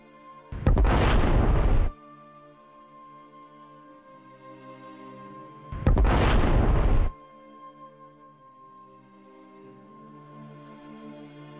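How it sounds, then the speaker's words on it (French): Two loud, booming blasts a few seconds apart, each a dense roaring burst lasting over a second, over a steady low hum. "Tu te rappelles du son des explosions?"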